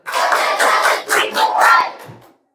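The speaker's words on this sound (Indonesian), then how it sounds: "Oke, tepuk konsentrasi." Children in a classroom perform a rhythmic concentration clap, several bursts of group clapping in uneven patterned groups, loud and close, ending abruptly.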